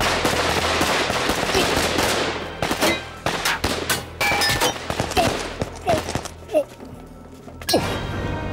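Film firing squad opens fire in a sustained volley of dense, overlapping gunshots. Sharp reports keep coming after it, with scattered louder cracks, a few ringing tones and other battle noise through the middle and end.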